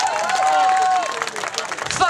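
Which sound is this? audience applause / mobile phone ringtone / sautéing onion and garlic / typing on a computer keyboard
audience applause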